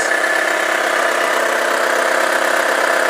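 A car engine idles smoothly and evenly, a loud, close, steady drone with no breaks, running without faults.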